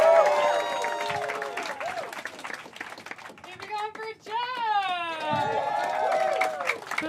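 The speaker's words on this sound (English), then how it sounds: "Start clapping out for Lucia Whalen, everybody." An audience at a Chicago comedy showcase claps steadily while a comic is introduced, with cheers and voices carrying over the applause from start to finish.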